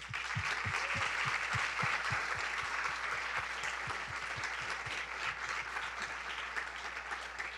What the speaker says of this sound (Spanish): un aplauso para todo mi equipo